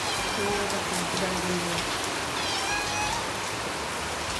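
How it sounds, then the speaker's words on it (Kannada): Steady rain hisses down continuously, with faint scattered tones and distant sounds beneath the downpour. "ನೋಡಿ ಮಳೆ ನೋಡಿ"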